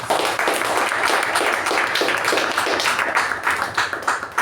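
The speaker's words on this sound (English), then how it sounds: "can you have a round of applause for all the role takers of the day?" Meeting audience gives a steady round of applause for the day's role takers, dense clapping from many hands at close range, heard alone without voices.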